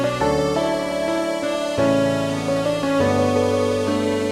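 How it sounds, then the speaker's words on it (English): A piano, a synth patch and a sine pluck are layered together in a liquid drum and bass production, forming sustained chords with soft plucked notes that shift a few times over a smooth, continuous bed. "if we play these three together, the piano, the synth patch, and that sine pluck,"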